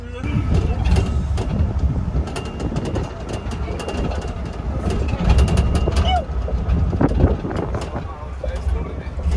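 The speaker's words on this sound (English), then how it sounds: "The train on the bridge." A train rolls across a bridge with a steady rumble and scattered rhythmic clatter from the rails, fairly close, while people talk over it throughout.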